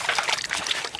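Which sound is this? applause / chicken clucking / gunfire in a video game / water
water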